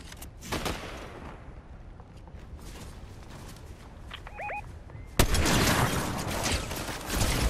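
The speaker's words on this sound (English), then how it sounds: "I feel like somebody was firing at me from up the hill again" Gunfire from up a hill in Fortnite Battle Royale, faint scattered shots at a distance, then a sudden louder sustained burst of firing in the last couple of seconds.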